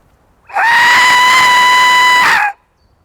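A sustained high-pitched scream lasting about two seconds, loud and close, with a steady strained pitch, heard during a nighttime paranormal ghost hunt in Cannock Chase forest, with no talking.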